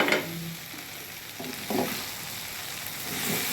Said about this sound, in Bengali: আমি কিছুক্ষণ অনবরত নেড়ে নিব।